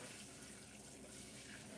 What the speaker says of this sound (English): Just basically going to rinse off your pieces.